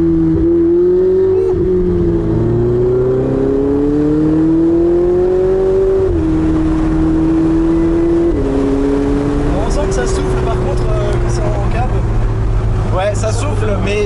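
A Ferrari 488's twin-turbo engine pulls hard, its loud drone climbing in pitch through several gear changes, with people talking over it inside the cabin.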